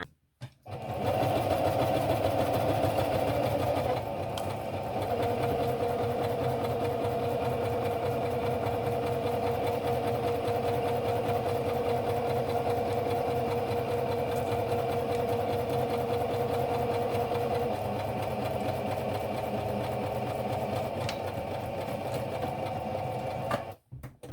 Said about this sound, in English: now you need to sew all of this, following all those pin lines that we've done.